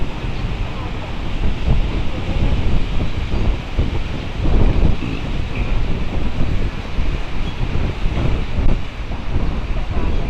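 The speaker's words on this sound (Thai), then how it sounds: "ลมแรงมากเลย" Strong wind blows hard across the microphone at the Thai-Lao Friendship Bridge, a loud, steady roar of buffeting noise that never lets up.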